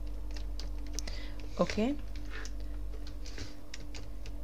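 Computer keyboard keys tap in light, scattered clicks at close range, with one short spoken word partway through.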